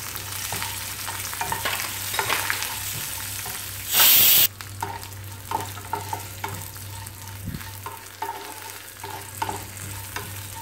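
Cashews and roasted gram fry in a hot pan for a Chettinad green peas and raw jackfruit kurma, giving a steady loud sizzle with stirring scrapes and a brief harsh burst as they go in.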